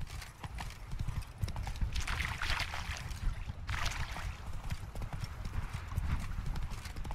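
Horse hooves clip-clop steadily at a run in The Witcher 3, a continuous galloping rhythm with game ambience underneath and some talk over it.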